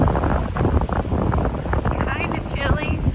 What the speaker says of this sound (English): kind of chilly, it's very windy.